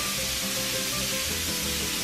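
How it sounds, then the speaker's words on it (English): Hamburger meat frying in a pan for tostadas, a steady broadband sizzle that runs close and even throughout, with faint low clatter beneath and no voices. "So now I'm gonna cook the hamburger for the tostadas."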